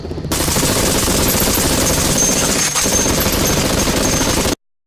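Sustained burst of rapid automatic gunfire played as a sound effect, loud and dense, running continuously for about four seconds before cutting off abruptly into silence.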